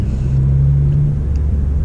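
A manual BMW M2 engine droning steadily while driving, a low continuous rumble with a faint steady tone, close and fairly loud throughout with no talk.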